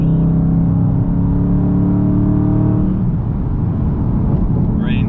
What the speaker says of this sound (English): see if we can get a little downshift here